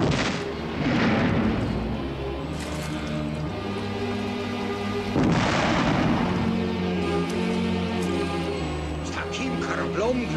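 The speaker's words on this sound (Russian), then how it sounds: "Это прощальный салют." Deep, heavy booms of an artillery farewell salute roll out repeatedly over a dense rumbling background, like cannon fire in a ceremonial volley, with voices faintly mixed in.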